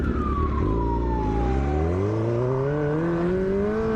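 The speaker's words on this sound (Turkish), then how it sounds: "Aa motosikletli polis geliyor." A police motorcycle siren wails loud and close, its pitch sweeping steadily through a rising tone over engine rumble.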